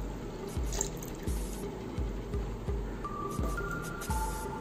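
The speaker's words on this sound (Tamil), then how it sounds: "மிச்சரில் பால் ஊற்றலாம்." Milk pours into a mixer jar for a chikoo milkshake with a steady, close liquid splash and gurgle, small glugs recurring rhythmically as the jar fills, with no talking.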